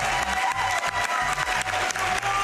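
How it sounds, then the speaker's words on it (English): A large convention crowd at a live speedrunning charity marathon claps and cheers steadily, a dense continuous wash of applause with whoops rising through it, loud and close throughout. "Come on, give us some cheering."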